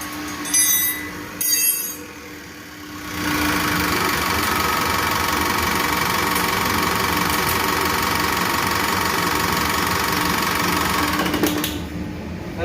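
A Toyota 1KZ diesel engine with a mechanical injection pump idles roughly with a steady, clattering knock. A couple of brief noises come first, then the engine runs close and loud before dropping away at the end.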